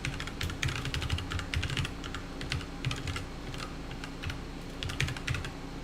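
Steady typing on a computer keyboard, with dense, quick, irregular clicks continuing for several seconds and close to the microphone, over a faint low hum, with no one speaking.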